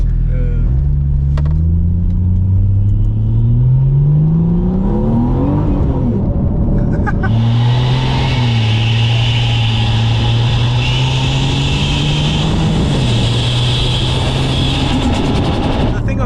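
A turbocharged Ford XR6 ute engine climbs through the revs with a rising tone, then drops back and builds again with a loud whooshing turbo hiss. The engine noise is close and steady, and people talk over it.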